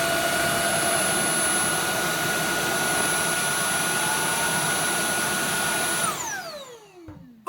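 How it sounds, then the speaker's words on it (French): A Tineco Switch S6 Stretch cordless wet vacuum runs its brush-roll cleaning cycle as a loud, steady whine, then the motor spins down with a falling pitch and stops, ending in a couple of small clicks. "Nettoyage du rouleau brosse."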